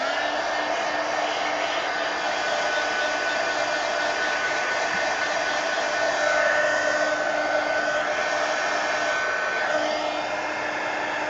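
A heat tool or hair dryer blows steadily on a painted art journal page, a loud continuous whooshing hum held unbroken at close range.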